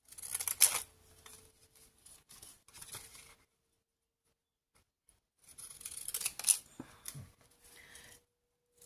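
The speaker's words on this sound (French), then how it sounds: "et je vais couper" Scissors cutting around a piece of sheet music paper for a Victorian junk journal, giving two bursts of crisp snipping and rustling split by a near-silent gap, close and with no talking.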